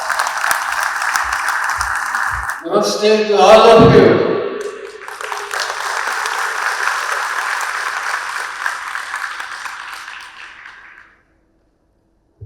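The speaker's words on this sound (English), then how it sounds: "Please give him a big round of applause." An audience at the inauguration ceremony of the Symbiosis International University Dubai campus claps in sustained applause, which pauses briefly while someone speaks a greeting and then resumes, steady and fairly loud, before cutting off.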